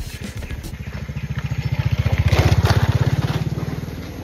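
Motorcycle engine climbing a steep hiking track on the way to Lata Kijang, a steady pulsing exhaust that swells louder over the first half, then holds and eases slightly, heard up close with no talk.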